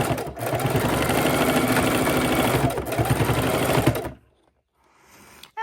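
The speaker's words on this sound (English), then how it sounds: "I'm sewing kind of on the previous line that I made" A sewing machine stitches fabric for potato warmers in a fast, steady mechanical whir lasting about four seconds, then stops abruptly, leaving near silence.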